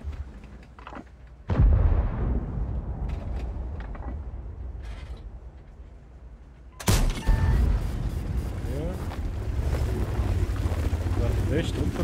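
Two loud tank cannon shots in World of Tanks, a Polish tank-line battle, each a sharp blast with a long decaying rumble, fired several seconds apart over a steady engine and wind bed.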